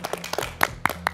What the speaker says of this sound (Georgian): მილოცავ პირველსი აპლოდისმენტები დედას აუცილებლად.